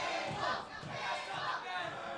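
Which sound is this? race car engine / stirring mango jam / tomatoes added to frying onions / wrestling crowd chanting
wrestling crowd chanting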